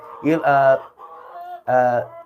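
Backyard pet hens being fed give three loud, close, drawn-out clucking calls with a squawky, almost crowing tone, separated by short pauses.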